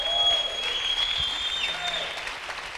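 Church congregation applauding during a bilingual Spanish-Portuguese sermon, a steady wash of clapping from a crowd, moderately loud and sustained, with a faint tonal hum underneath.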